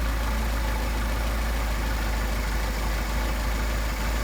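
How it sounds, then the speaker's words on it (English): A Mercedes 190SL engine with Solex 44PHH carburetors idles with a steady low rumble and slight stumbling during mixture adjustment, close and constant, with no talk. "Engine stumbling again, run it back in."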